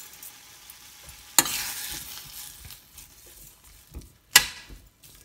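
Small-cut tomatoes frying with salt in a pan on a stove for tomato curry-leaf chutney, giving a steady soft sizzle with two sharp stirring scrapes; nearby and fairly quiet.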